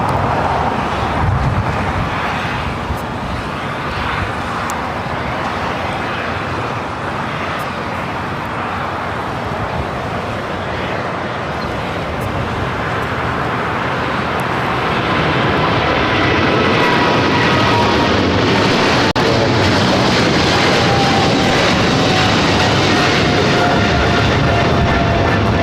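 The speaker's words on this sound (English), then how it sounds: "This is China Airlines Cargo 5115 taking off to Taipei on the 777 freighter." A China Airlines Cargo Boeing 777 freighter takes off at LAX with a loud, sustained jet roar that builds in strength toward the end.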